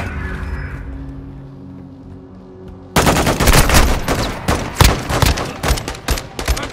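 Sudden heavy automatic gunfire in Call of Duty: Modern Warfare II erupts after a quiet, low hum, with dense rapid bursts and sharp cracks hitting the player, loud and close for the rest of the stretch.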